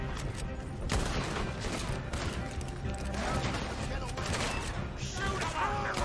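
Rapid gunfire from a gun in Red Dead Redemption 2 bursts repeatedly against a busy game soundscape, with dense overlapping shots and a voice speaking over the action.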